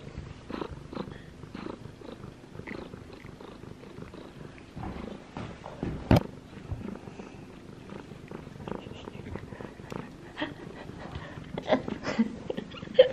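A cat purrs softly in a home kitchen, a faint continuous rumbling purr with small breathy pulses and light household rustles throughout, close and quiet.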